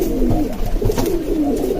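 Pigeons cooing while fighting in a corner at midday, several low, throaty rolling coos overlapping in quick succession, close and fairly loud, with no talking.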